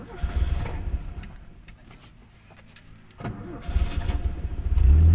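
A 1974 Toyota Corolla KE20 engine cranks and catches, dips briefly, then turns over again and settles into a rising, rumbling idle close by.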